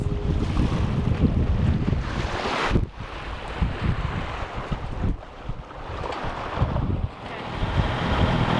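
Sailboat under way off British Columbia, with steady rushing wind buffeting the microphone and water washing along the hull, loud and continuous throughout with no voices.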